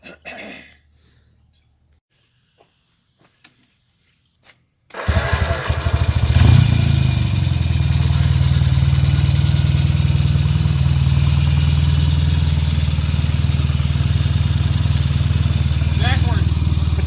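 1975 Norton Commando Mk3 motorcycle engine on electric start, quiet at first, then catching abruptly and settling into a loud, steady, throbbing run that continues close by, with people talking briefly over it.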